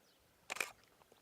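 A single quick shutter release from a DSLR or mirrorless camera set to aperture priority at f8, a short close mechanical click and clack in an otherwise quiet room.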